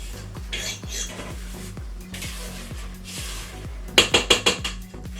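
Chocolate cupcake batter being whipped in a bowl, with a steady rhythmic series of utensil knocks against the bowl, ending in a brighter burst of quick clinking strokes.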